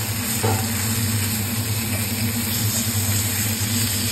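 Food frying in a smoking-hot kawali, a loud, continuous dense sizzle and crackle close by with a low steady hum underneath, no talking.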